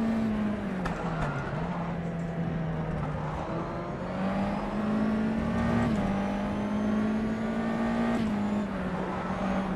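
A USF 2000 open-wheel race car in rFactor 2 at Eastern Creek holds a loud, steady engine drone that climbs and dips with gear changes, running continuously with no voices.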